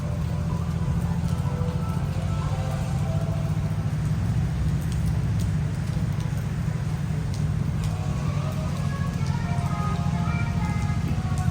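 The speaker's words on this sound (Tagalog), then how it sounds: "umuulan na po mga kayami" Rain falling outside a shopping mall, Robinsons Town Mall in Malabon, a steady dense hiss of drops over a low rumble of nearby traffic and engines, continuous throughout with no voices.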